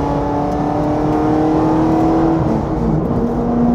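Engine of a championship-winning 2002 Mustang Cobra Grand Am race car on track, a loud, close, sustained droning roar with shifting tonal whine and a slight swell in pitch toward the end, heard alone.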